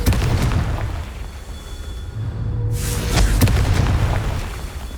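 Confringo fire spells go off in the Hogwarts Legacy video game, producing heavy booming blasts with deep rumble, one sharp burst midway followed by rolling low explosions, loud and close.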